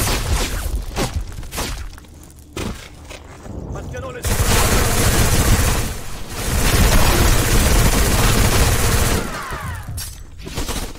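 A machine gun nest firing in a war shooter video game, with loud sustained bursts of automatic fire and explosions in long stretches, broken by brief quieter gaps and a voice talking.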